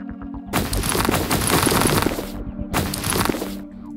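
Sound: gunfire in the video game Gangland

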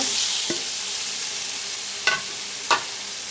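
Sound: cut cucumbers added to frying spices, stirred

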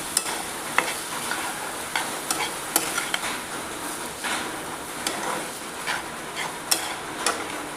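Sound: vermicelli and chopped coriander being stir-fried in a pan

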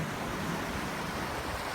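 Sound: sea waves at rocky Yanui Beach, Andaman Sea

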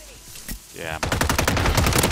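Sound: gunfire shooting at player in video game

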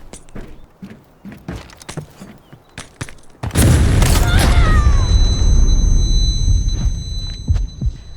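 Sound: grenade explosion in a video game

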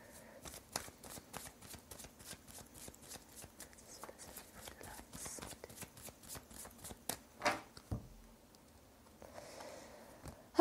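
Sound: shuffling cards for a three-card reading

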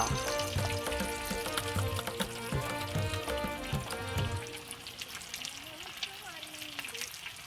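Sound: eggs frying in a pan for bhurji

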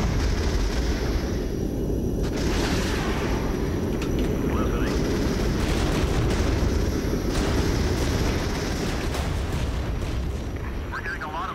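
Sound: gunfire and artillery fire in the video game Regiments

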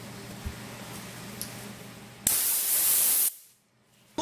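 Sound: compressed air spraying a book

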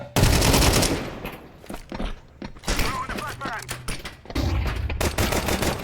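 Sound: gunfire in the video game Counter-Strike 2

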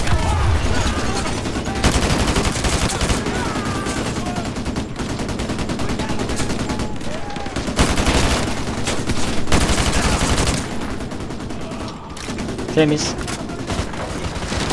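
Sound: gunfire in the video game Modern Warfare 2 Remastered

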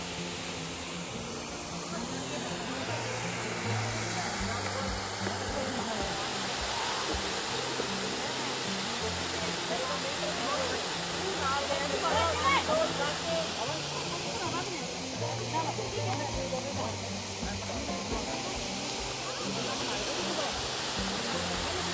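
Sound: river water flowing after heavy monsoon rain in Rajasthan

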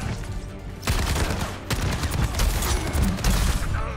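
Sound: Roadhog's one-shot weapon fire in the video game Overwatch

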